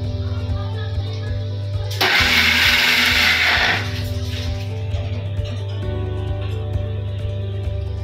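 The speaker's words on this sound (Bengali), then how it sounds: "তো দেখো এগুলোকে মিক্সিতে দিয়ে দিয়েছি একটা স্মুথ পেস্ট করছি" A kitchen mixer grinder whirs loudly for about two seconds while blending fried spices into a smooth paste, then cuts off, leaving a steady background hum.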